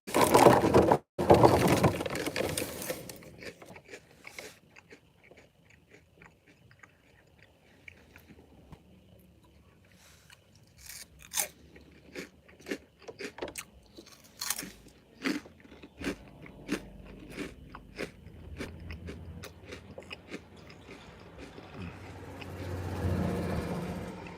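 Someone eats crunchy chips up close, with a burst of loud crunching at first and then a long run of sharp bites and cracks between quieter chewing. Road noise from a car hums underneath.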